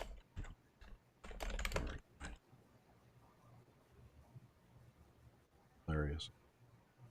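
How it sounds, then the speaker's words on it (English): Clicky typing on a computer keyboard during a live online show, bursts of keystrokes coming in short runs early on, moderately close, with a brief voice later. "Are you typing to him"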